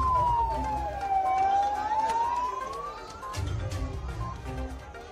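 An ambulance siren carries rescued tunnel workers to hospital in Uttarkashi, Uttarakhand. One long wailing sweep falls and then rises over the rumble of traffic, fairly close and loud, and then fades.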